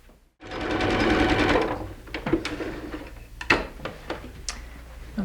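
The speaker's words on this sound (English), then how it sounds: "we'll take it back to the sewing machine, and of course we'll sew another 1/2 inch seam all the way around" A home sewing machine runs a steady half-inch seam on pajama pants, a loud continuous mechanical whir for over a second, then stops and gives way to scattered clicks and handling taps.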